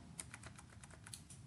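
A burst of computer keyboard typing up close, quick key clicks in an irregular rhythm while a keyboard shortcut is entered, quiet and without talk.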